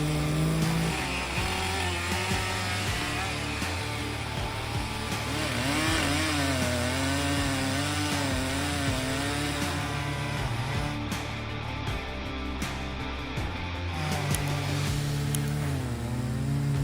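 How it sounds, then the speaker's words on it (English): A Stihl MS-881 chainsaw, around 12 horsepower, cuts through a large oak stump, its engine droning loud and close with a rising and falling pitch as the chain bites into the wood, with no voices. "it's great to see the Stihl MS-881 saw can easily cut a large oak stump"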